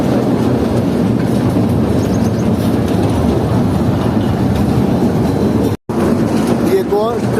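A small toy train carrying passengers through the Changa Manga forest in Pakistan rattles steadily along its track, a continuous close clatter with faint wheel squeals near the end as it takes a left turn.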